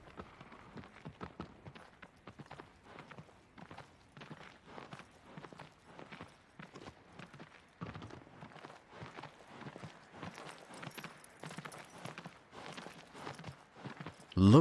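Horse hooves clip-clopping in the Shadow of the Colossus video game, a long steady rhythmic run of quiet, close hoofbeats that quickens slightly partway through, without speech.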